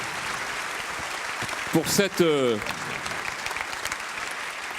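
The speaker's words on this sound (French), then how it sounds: "cette intervention très applaudie" An audience applauds after a speech, with steady, dense clapping running throughout. A voice briefly speaks over the applause near the middle.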